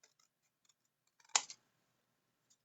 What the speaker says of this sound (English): I just found I have better success if I just cut them